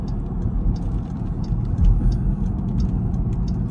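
A Dodge SRT Durango's exhaust rumbles steadily from inside the cabin while cruising, a deep low drone with slight swells in loudness and no talking.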